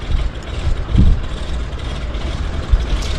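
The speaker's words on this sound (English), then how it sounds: "Actually, I think they're just warming up the engine on that aircraft." A 1950s radial aircraft engine warms up at a harbour seaplane airport in Vancouver, a loud steady low rumble with uneven throbbing, heard from nearby without speech.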